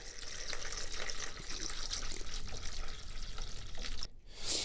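Birch sap poured into a jar of homemade apples, a steady splashing stream of liquid that runs for about four seconds, then cuts off abruptly before a brief final trickle.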